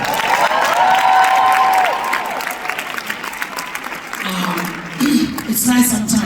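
Audience applause at a live event, a full, continuous round of clapping from a crowd with some cheering, while a voice speaks over it and carries on talking as the clapping continues.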